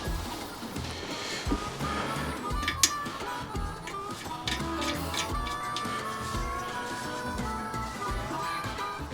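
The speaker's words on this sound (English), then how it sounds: "So they go in there like that, and then I put 2 of these screws in." Screws being tightened by hand into a MAP X4 MkII fishing trolley, close small clicking and ticking turns with scraping handling noises in a continuous run, no voices.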